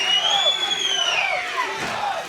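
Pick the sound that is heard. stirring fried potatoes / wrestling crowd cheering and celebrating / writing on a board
wrestling crowd cheering and celebrating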